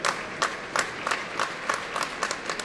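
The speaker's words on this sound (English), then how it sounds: "Big cheers." An indoor arena crowd at an athletics championship applauds and cheers, with rhythmic waves of clapping rising at regular intervals over a continuous wash of crowd noise.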